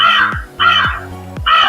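A talking flash card toy for kids plays a recorded crow cawing. Three loud, close, harsh caws come at an even pace with short gaps between them.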